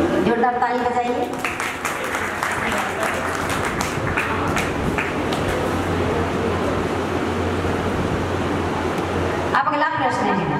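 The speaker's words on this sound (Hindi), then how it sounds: "हाँ जोरदार ताली बजाइए" Loud, dense applause from an audience at an evening aarti and cultural programme in Dilshad Garden, Delhi, swelling and holding steady for about nine seconds before cutting off.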